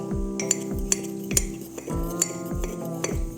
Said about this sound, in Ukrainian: треба все це ретельно перемішати